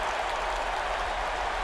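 Crowd applause and cheering for a slam dunk contest attempt at an NBA 2K25 All-Star event in Mexico City, a steady broad roar sustained throughout without a break, loud and dense.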